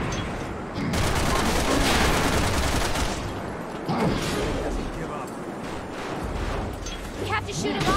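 Rapid bursts of gunfire from the video game Resident Evil 6 rattle steadily across the whole stretch, loud and dense, with players talking over the shooting.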